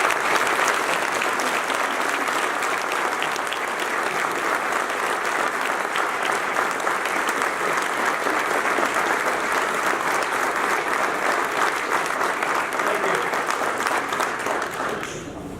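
An audience applauds steadily and loudly to welcome an alumnus to the podium, with dense continuous clapping that lasts about fifteen seconds and tapers slightly at the very end.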